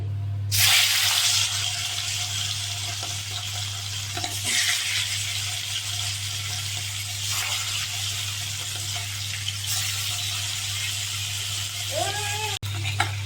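Fish frying in oil in a wok, a steady broadband sizzle running nearly the whole time over a low constant hum, with brief stirring clatter and a short tonal sound near the end.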